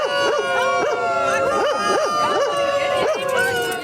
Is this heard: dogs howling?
yes